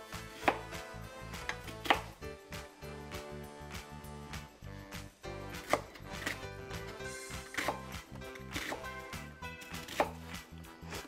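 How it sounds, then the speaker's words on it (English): Onions being chopped with a knife on a cutting board, a fast run of close, sharp, regular blade taps with a few louder thumps, no talking. "And then we need to chop up some onions."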